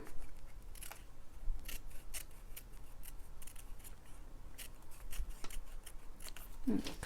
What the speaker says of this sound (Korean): 3등분을 음, 해서 이렇게 가위로 간단간단하게 잘라주세요